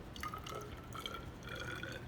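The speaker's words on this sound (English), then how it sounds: "I'm pouring out 30 mils of the 2 molar hydrochloric acid again." 2 molar hydrochloric acid poured into a glass measuring cylinder in a lab, giving a soft, steady trickling and dripping of liquid close by, with no talk.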